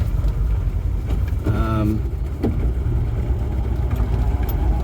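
An MG Midget engine running with carburettors in need of a tune-up, a steady mid-pitched idle close by with a brief tonal squeak partway through and faint talk in the background.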